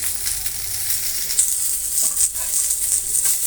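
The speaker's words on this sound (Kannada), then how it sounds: "ಚೆನ್ನಾಗಿ ಫ್ರೈ ಆಗ್ತಾ ಬಂತು ಇನ್ನೇನು ತೆಗೆಯೋದೆ ತುಂಬನೇ ಟೇಸ್ಟ್ ಆದಂಥ ಫಿಶ್ ಫ್ರೈ ರೆಡಿ ಆಗ್ತಾಯಿದೆ" Rohu fish pieces fry in hot oil in a pan, a steady bright sizzle close up with small crackles and pops, with no one talking.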